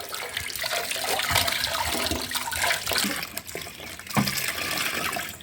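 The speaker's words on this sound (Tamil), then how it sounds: "அண்டாவில் தண்ணி கொண்டு வந்து வச்சு ஊற்றிட்டுருக்குறோம்" Water pours and splashes continuously in a heavy, gushing stream from a large pot, close by, with some clattering, and no talking.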